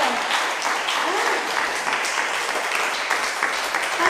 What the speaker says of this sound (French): applaudissez ça au Seigneur